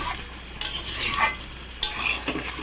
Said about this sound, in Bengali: আমি কষছি, এটাকে আস্তে করে গ্যাস দিয়ে ধিমে আছে কষছি